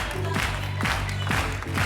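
A TV studio audience on a game show applauds amid busy background sound, with crowd noise and clapping blended under music-like tones, moderately loud and continuous.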